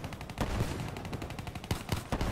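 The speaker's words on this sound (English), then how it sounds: "I'm just shooting walls, so not that good of a start" Gunfire in Call of Duty Black Ops 3 during a Safeguard match on the Combine map: rapid bursts of automatic shots with sharp, close cracks, some tighter volleys and a few heavier single reports, no talking.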